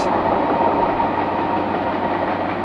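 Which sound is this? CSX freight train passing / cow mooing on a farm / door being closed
CSX freight train passing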